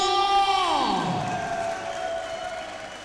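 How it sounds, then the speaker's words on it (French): Crowd noise after a fight between Souleimane El Assiri and Mehdi Benikhis, with a loud falling whoop or horn-like tone sweeping down early, then sustained cheering and applause beneath a lingering tone. "je voudrais s'il vous plaît que vous fassiez un tonnerre d'applaudissements pour eux pour ce magnifique combat"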